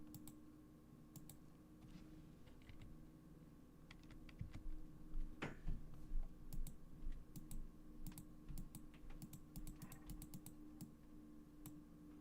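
Keyboard shortcut typed on a computer keyboard during a software session: a quiet, steady run of keystroke clicks, busier and louder in the middle, over a faint background hum with no talk.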